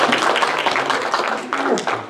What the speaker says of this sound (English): everybody give a hand clap to that